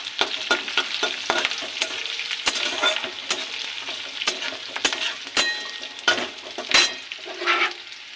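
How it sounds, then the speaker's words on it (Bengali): Slit green chilies and grated ginger frying in a pan, bright crackling sizzle with frequent sharp spatters and quick stirring scrapes, loud and close, no voices. "দেব চেরা কাঁচা লঙ্কা দেব আদা গ্রেট করা দিয়ে এটাকে ভেজে নেব"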